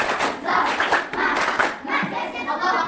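Schoolchildren in a classroom clapping their hands together in a lively, steady patter of claps mixed with children's voices and chatter throughout.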